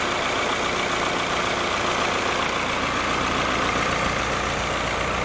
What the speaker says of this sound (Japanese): こっち側の電動ファンは今回っています。